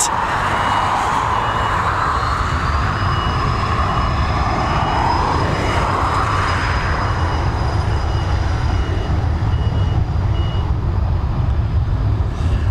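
Jet aircraft on Dublin Airport's runway 10R roar loudly and continuously, a broad rumbling engine wash with a sustained high whine layered on top, close and powerful throughout; no speech.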